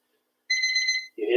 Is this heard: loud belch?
no